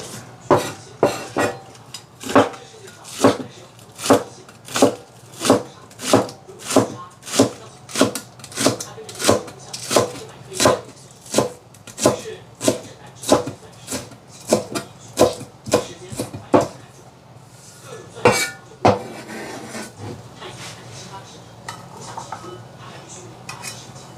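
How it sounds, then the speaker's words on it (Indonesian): A knife slices spring onions on a board in a steady run of sharp, evenly spaced chopping knocks, close and fairly loud. The rhythm loosens and fades into lighter kitchen rustling toward the end. "Ini saya mau mengiris daun bawang"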